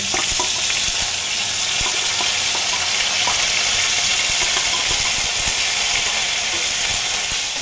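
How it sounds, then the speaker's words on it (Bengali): Ginger and cumin paste frying in hot oil in a pan for a potol chingri dish, a steady, close hiss and sizzle with faint clinks and stirring throughout. "এখন আমি দিয়ে দেব আদা জিরের পেস্ট।"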